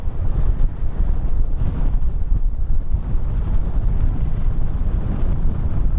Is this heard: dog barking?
no